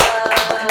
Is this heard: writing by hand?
no